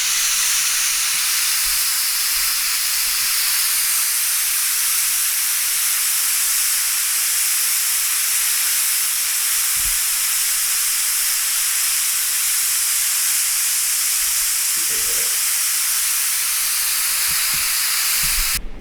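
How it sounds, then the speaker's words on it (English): Steam vents from a Power Pressure Cooker XL cooking short ribs in a loud, continuous hiss that stays strong and close throughout, with a few faint knocks underneath. "So we're just going to release the steam."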